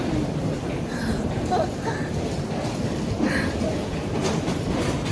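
Rumble of a train in Japan on a winter day, a steady dense low-frequency roll with faint clatter running throughout, close and continuous, with no clear voices over it.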